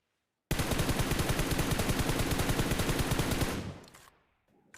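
Rapid gunfire in an online shooter game, a dense, loud burst of evenly spaced shots lasting about three seconds before it cuts off and trails into quieter game sounds.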